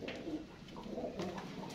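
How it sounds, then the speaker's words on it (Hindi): Pigeons coo softly and repeatedly close by in an indoor space, low rounded calls overlapping with faint rustling. "कैसे मीठे कबूतर हैं"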